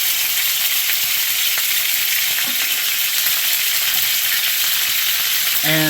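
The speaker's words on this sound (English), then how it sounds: "So I'm going to turn the heat down, as that's splattering just a little too much for my liking." Pork carnitas frying in a pan, giving a loud, steady sizzle with crackling spatter that goes on the whole time, near and with no talk.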